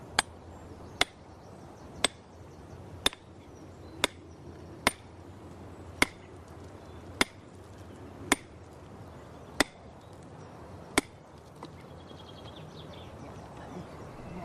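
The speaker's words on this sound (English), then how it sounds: "a nice sliding action when you beat it with the hammer" Sharp metallic hammer strikes on an iron wedge splitting rock ring out one by one at a steady, unhurried pace, about a dozen blows, with birds faintly in the background.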